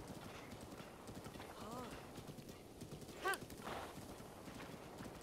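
Rhythmic hoofbeats of a galloping horse in The Legend of Zelda: Breath of the Wild clatter along, with a brief whinny in the middle and a voice talking over it.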